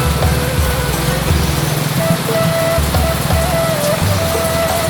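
Steady rain falling on a mountain peak, a dense continuous hiss that fills the whole stretch, with a low engine-like drone and faint voices in the background.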